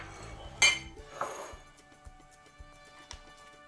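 A small bowl and plate are handled in a kitchen while breakfast is prepared, giving one sharp clink followed by a few faint, scattered taps of crockery.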